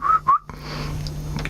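Two short rising whistles from a person, close and clear, followed by quiet outdoor background with faint rustling.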